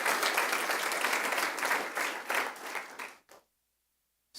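A congregation applauding during a church sermon, dense sustained clapping that swells and fades, then cuts off into silence with a last short burst.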